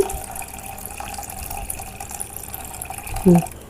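Water drained off washed idli rava trickles and splashes steadily into a bowl, a soft continuous pour with a brief louder burst near the end.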